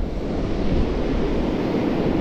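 Surf rolls onto the beach at Playa Jandia, Fuerteventura, as a steady, dense wash of waves with some wind buffeting, with no voices.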